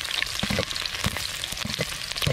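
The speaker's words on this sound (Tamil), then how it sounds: "எண்ணெய் சூடாகிட்டு வெட்டி வச்சுருக்க இஞ்சி பூண்டு போட்டுருவோம்" Chopped ginger and garlic frying in hot oil for a Chinese-style chilli fish, giving a steady close crackling sizzle with small pops and a few stirring scrapes.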